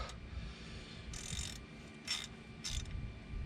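Ratcheting clicks from tightening a Spyntec free-spin locking hub on a Dodge Ram, three short bursts of dense clicking against a low background rumble in a workshop, close by and without talking.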